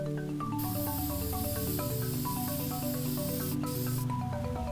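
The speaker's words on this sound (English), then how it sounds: "I'm going to spray the inside white" An aerosol spray paint can sprays white paint onto the inside of an object, giving a loud, steady hiss that stops briefly and then resumes, heard over music with no one talking.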